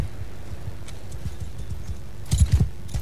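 Cavalry horses in the video game Mount & Blade II: Bannerlord, a rhythmic clatter of hoofbeats that runs steadily and then swells into a louder, closer cluster of thuds near the end.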